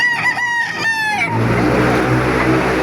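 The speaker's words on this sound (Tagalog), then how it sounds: "Ang dami manok oh." A rooster crows loudly up close, then gives way to a low rumbling hum with faint clucking gamefowl chickens in the background at a gathering in Baliwag, Philippines.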